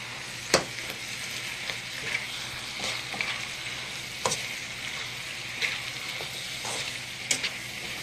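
Ground turkey, onions and peppers sizzle steadily in a pan for turkey chili, with a few sharp scrapes and knocks from stirring at irregular intervals.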